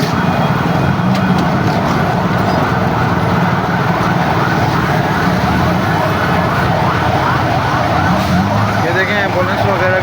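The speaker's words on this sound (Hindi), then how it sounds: "एम्बुलेंस वगैरह भी यहाँ पे फंसी हुई हैं।" Ambulance sirens wail from vehicles stuck in a heavy traffic jam in Landhi and Korangi, Pakistan, loud and continuous over dense engine rumble and road noise.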